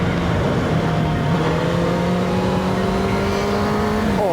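A motorbike accelerating hard, its engine note climbing steadily in pitch through the gears, loud and close with constant wind roar and no talking.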